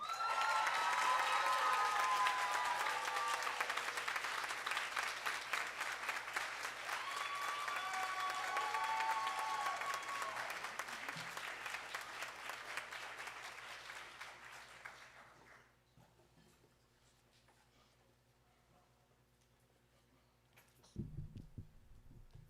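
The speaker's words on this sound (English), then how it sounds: "And so that means first up, with a big round of applause, please, is Miss Kelly Curley." Applause from the audience at a school board of education meeting, steady and fairly loud for about fifteen seconds, then fading out into a quiet room hum with a brief shuffle near the end.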